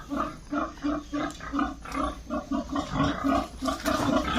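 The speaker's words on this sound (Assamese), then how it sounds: "কেনেকৈ গাহৰি ধৰি পেলাই লৈ যায়" Pigs squeal and grunt in loud, rhythmic bursts, about a dozen harsh cries in quick succession as they are caught and carried off to be sold, close and insistent.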